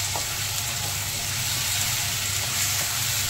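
Mustard and green chilli paste with turmeric powder sizzling among onions in a hot pan, a steady, close frying hiss that holds evenly throughout with no voices.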